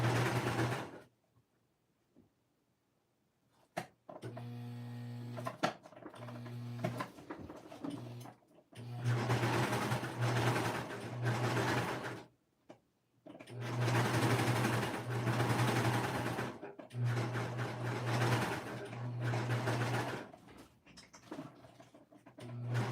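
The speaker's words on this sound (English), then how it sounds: "I just go over where I've already serged, just maybe like a half an inch, and that way it catches the seams" A serger stitching back over an already serged seam in bursts of steady mechanical whirring, several runs of a few seconds separated by pauses, close and clear with no voices.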